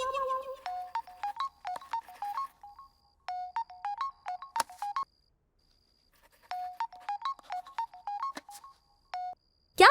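A phone ringtone plays in repeated melodic bursts of electronic beeps, separated by short pauses, ringing before a call is answered in a romantic comedy scene.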